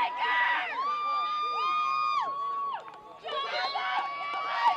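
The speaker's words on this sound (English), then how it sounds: "Crowd's going crazy over the goal." A high-school soccer crowd cheers a tying goal late in the game, with loud whoops, shouts and sustained high-pitched screaming from many voices close by, dipping briefly before surging again.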